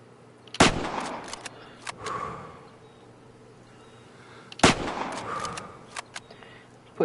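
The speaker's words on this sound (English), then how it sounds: "Put 2 shots on it." Two loud, sharp rifle shots fired while hunting a fox from a prone position about 200 yards away, spaced roughly four seconds apart, each followed by a rolling outdoor echo.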